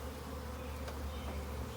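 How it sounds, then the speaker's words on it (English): Honeybees hum in a steady, close, continuous drone while a package is being installed into a hive, with no voices present. "these bees are going to start working their way down in the hive"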